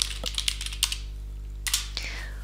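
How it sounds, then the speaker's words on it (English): Keys on a computer keyboard are tapped in short bursts, a few crisp clicks spaced irregularly, then a pause before another quick cluster, close and clear over a low steady hum. "we'll start by typing into the name column of the table our first task"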